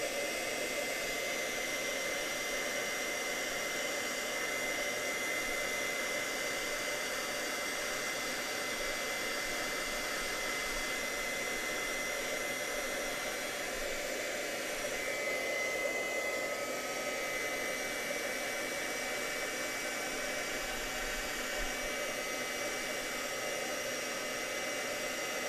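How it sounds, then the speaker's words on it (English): Heat tool blowing continuously for drying Versamark ink, a steady loud airy roar with a whining fan tone, unbroken throughout with no voices. "take your heat tool and heat it up"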